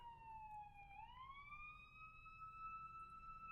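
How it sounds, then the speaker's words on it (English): A distant siren sweeps down in pitch, then rises into a long, steady wail over low background rumble. "Hear that siren?"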